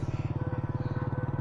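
A motorcycle ridden slowly along an empty road at night, its engine putting out a steady, even pulsing throb that stays close and fairly loud throughout, with no talking.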